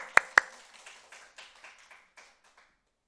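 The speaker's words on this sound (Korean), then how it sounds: "딩동댕 박수." A few people clap after a correct answer at a church gathering, with two sharp loud claps up front and then a sparse, fading patter of scattered claps that dies out within about two seconds.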